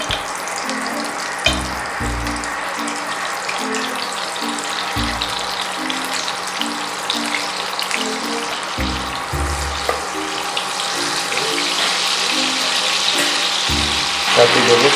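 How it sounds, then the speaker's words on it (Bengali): White oil and butter heat in a wok, giving a continuous close sizzle with a faint hiss, and some scraping and clinking of a utensil come through now and then. "প্রথমে আমি কড়াইতে সাদা তেল দেব আর দেব বাটার।"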